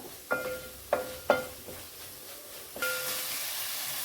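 Curd (dahi) with spices hits hot oil and sizzles, with several sharp bursts of hiss and clanks as it is stirred, then a loud steady sizzle settling in near the end.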